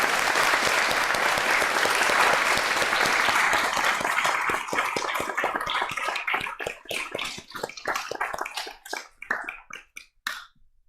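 Congregation at a church celebration service breaks into a loud, dense round of applause that holds steady, then thins into scattered individual claps trailing off toward the end.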